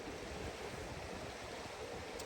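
A river runs steadily beside a trailside rest stop, its broadband rush of flowing water continuous and fairly close, with no voices over it.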